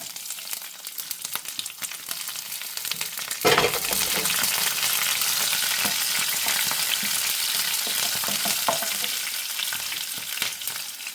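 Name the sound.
garlic, green chilli and ginger frying in pan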